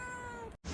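A cat gives a single short meow, close and clear, that ends abruptly in silence.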